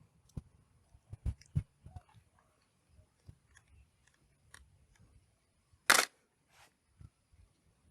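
A camera in manual exposure mode fires its shutter as photos are taken. Several sharp, isolated clicks come at uneven intervals over faint handling noise in a quiet room.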